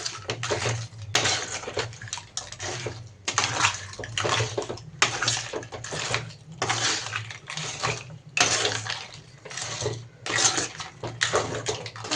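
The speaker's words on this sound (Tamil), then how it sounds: "தேங்காய் பால் இருக்குல்ல தேங்காய் பால் ஊற்றிக்கலாம்" Coconut milk is poured into a pot in repeated splashing bursts with short pauses between, close by, over a low steady hum.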